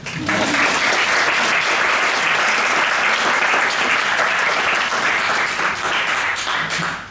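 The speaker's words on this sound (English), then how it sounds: "applause please" Loud, sustained applause from a crowd, a dense wash of clapping that holds steady for several seconds before trailing off.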